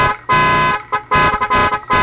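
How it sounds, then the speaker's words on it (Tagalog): A loud multi-tone musical car horn fitted to an Isuzu double cab pickup blares in short, rhythmic bursts with brief gaps, close and alone. "At ayan yung sample natin ng busina"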